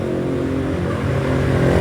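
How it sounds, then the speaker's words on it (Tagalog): A motorcycle goes by close and loud, its engine a steady rough drone that swells slightly toward the end of the short burst. "Motor dito guys"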